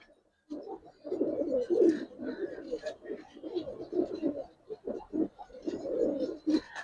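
Giribaz silver pigeons at a market stall coo in repeated low, throaty rolls, fairly close and steady, with a voice talking intermittently nearby.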